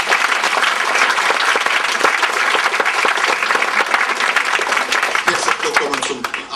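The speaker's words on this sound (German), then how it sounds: "vielleicht begrüße ich noch einmal mit einem herzlichen Applaus Ihren charmanten und gut aussehenden Kapitän" A crowd of passengers aboard the cruise ship Arctania gives the captain warm applause at a farewell cocktail, loud and close, dense clapping that runs on for several seconds before thinning out at the end.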